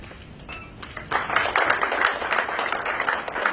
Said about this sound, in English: I request for a round of applause